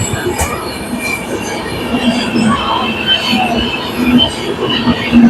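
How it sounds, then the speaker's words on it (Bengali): The 13152 Jammu Tawi Express runs between Gaya and Kolkata, heard from inside the coach as a loud, steady rumble with rattling and faint wheel squeals, continuous and close throughout. "এইবার ঝাড়খণ্ডে আমাদের ট্রেন প্রবেশ করবে।"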